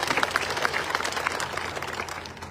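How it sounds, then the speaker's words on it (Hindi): Applause from a village audience in Haryana greeting a former Pakistani minister, steady dense clapping throughout, fairly loud and close, with no talk. "जोरदार तालियां से स्वागत कीजिए।"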